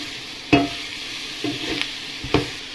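Egg thoran being stirred and mixed in a frying pan, with three distinct spatula scrapes and taps over a light steady sizzle, close and without talk.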